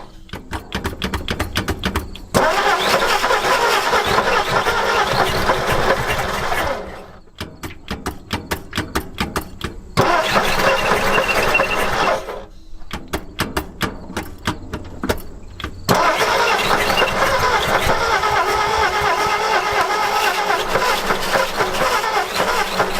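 An old abandoned panel truck, left sitting for about 40 years, cranks over repeatedly in bursts of rapid rhythmic turning, with short pauses between attempts and rough catching that never settles into a steady idle.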